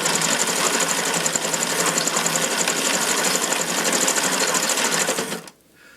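A 35mm Bioscope hand-cranked movie camera runs with a fast, even mechanical clatter, a loud close whirring chatter that holds steady for over five seconds before stopping abruptly, leaving near silence.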